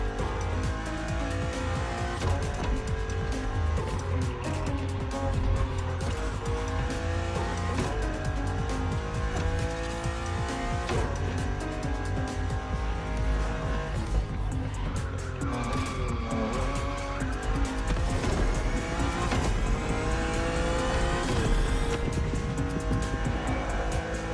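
A BMW car racing in the video game The Crew Motorfest, its engine roaring steadily with shifting revs and tire squeal through corners, loud and continuous with no talking.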